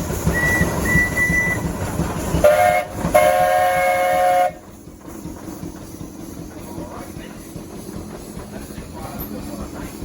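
A 20, 24 or 28 horsepower Minneapolis steam traction engine at a steam and threshing show in Sycamore, Illinois, blowing a loud, steady whistle in several bursts of a few seconds that stop abruptly, with engine noise running underneath.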